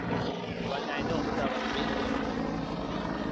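A helicopter drones steadily nearby at a beach festival in Surat, its engine and rotor roar filling the whole clip while indistinct voices carry on underneath.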